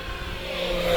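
E-flite Turbo Timber 1.5m electric RC plane with a 50 amp ESC, running at full throttle, gives a steady, rising motor whine that grows louder over about a second, with no talk.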